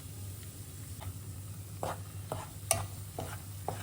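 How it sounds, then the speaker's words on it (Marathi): Amaranth flour being stirred and roasted in hot ghee in a pan, a low steady sizzle with several sharp scraping strokes of the spoon spaced irregularly, close and fairly quiet, with no talking. "त्यामध्ये मी आपलं राजगिऱ्याचं पीठ आहे ना ते टाकणार आहे आणि छान तुपावरती भाजून घेणार आहे"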